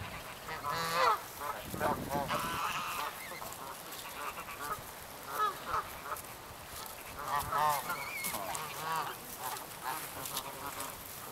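Greylag goose and Canada goose honking together, repeated loud nasal honks and calls in bursts throughout, close by, with a faint voice now and then.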